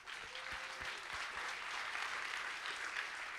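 Audience at a hackathon closing ceremony applauding, a sustained wash of clapping from many hands that holds steady throughout, fairly distant in a large room.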